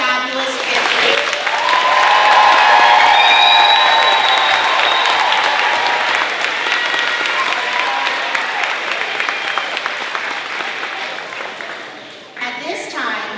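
A large crowd of families applauds fifth graders at an elementary school moving-up ceremony, with loud, sustained clapping and cheering that builds and then slowly fades, and a voice speaks briefly near the end.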